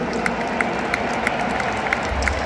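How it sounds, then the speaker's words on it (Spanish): A concert audience applauds and cheers in a large stadium, with a steady roar of clapping and faint rhythmic accents throughout. "El piano está Chema, un fuerte aplauso para él."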